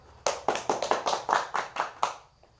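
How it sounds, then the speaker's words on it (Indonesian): Brief, close applause in a classroom: about ten sharp claps in quick succession from a small group, fading out after two seconds. "beri aplaus untuk kita semua"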